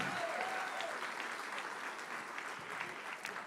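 A crowd at a Habitat for Humanity charity gala auction in Los Angeles applauds donor bidders with sustained, dense clapping that stays even and unbroken from start to finish.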